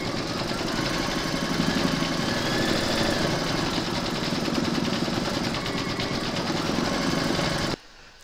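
A home embroidery machine stitching a round of a large flamingo appliqué design, a loud steady mechanical whir with fast rhythmic needle chatter that runs continuously and then stops abruptly near the end.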